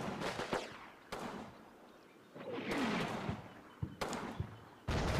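Anti-tank gun shots and other gunfire in the WWII strategy game Combat Mission: Battle for Normandy, with several sharp loud reports spaced a second or so apart over battle ambience.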